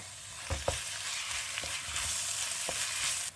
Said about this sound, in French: On fait revenir les oignons ciselés, 350 g de viande hachée